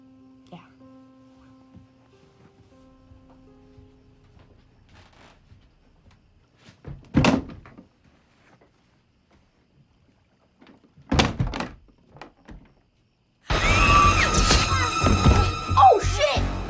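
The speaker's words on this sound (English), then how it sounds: "Close the closet door." A closet door shuts in a horror film scene, a brief thump amid quiet room sounds and rustling, followed later by louder sudden noise and talking.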